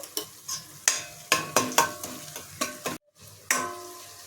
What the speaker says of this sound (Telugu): అల్లం వెల్లిగడ్డ పేస్ట్ పచ్చివాసన పోయేదాకా వేగనివ్వాలి.